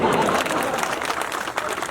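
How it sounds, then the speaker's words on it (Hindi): At a comedy poetry event in Shivrinarayan, an audience claps in a dense, steady wash of applause with a voice faintly carrying beneath it. "लेकिन इन तालियों को बम्पर तालियों में बदलना"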